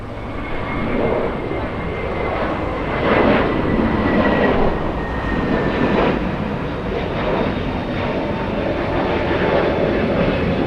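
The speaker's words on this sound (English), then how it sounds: "JetBlue 1124 heading to JFK International. That's an A321neo." JetBlue Airbus A321neo jet taking off at LAX, a loud, sustained engine roar that swells slightly and holds steady over the whole stretch, heard from nearby.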